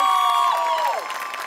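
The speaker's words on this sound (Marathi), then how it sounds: "तर एकदा सुलभाताईंसाठी टाळ्या" A studio audience on the Marathi comedy show Maharashtrachi HasyaJatra cheers for a cast member with sliding whistles and shouts over a wash of clapping, fading slightly toward the end.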